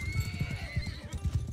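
Hooves of galloping war horses in a battle in Mount & Blade II: Bannerlord, a rapid uneven clip-clop with a whinny over battlefield noise, steady and moderately loud.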